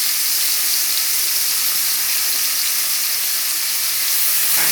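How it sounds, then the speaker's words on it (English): Tomato, sweet pepper and other vegetables fry in a pot on a stovetop, giving a loud, steady, close sizzle that continues without a break. "We're going to allow this to fry a bit."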